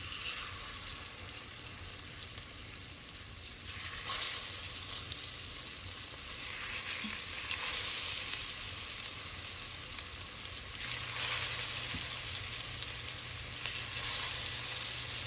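Chicken pieces frying in hot curry oil for Jamaican-style curry chicken, a continuous moderate sizzle and crackle that swells in waves.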